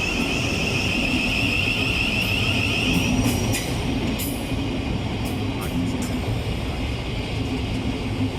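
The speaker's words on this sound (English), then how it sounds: "This Thameslink train is just too long." A long Thameslink train rolls steadily through London Bridge station, a continuous loud rumble of wheels on rail with a high whining tone and occasional squeals and clicks, filling the whole stretch with no pause.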